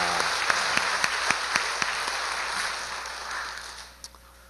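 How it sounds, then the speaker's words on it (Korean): A church congregation applauds a choir warmly during a Sunday service, with a few sharp individual claps standing out, then the clapping tapers off toward the end. "할렐루야 찬양대 격려하는 뜨거운 박수 한번 더 보내주시기 바랍니다"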